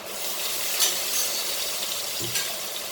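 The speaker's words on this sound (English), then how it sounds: "Now I will start my frying of garlic and all." Steady sizzling of garlic frying in a hot pan, continuous and close, with a couple of light clinks of a utensil.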